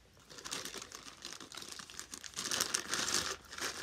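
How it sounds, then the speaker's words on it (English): Plastic packaging being handled up close: continuous crinkling and rattling, fairly faint at first and growing busier and louder toward the end, with no voices. "The rattling of plastic."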